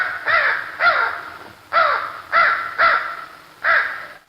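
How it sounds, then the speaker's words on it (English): Six loud crow caws, used as a locator call to draw gobbles from wild turkeys, ring out close and clear in two uneven bursts with short gaps between them. "a loud sound like a crow call"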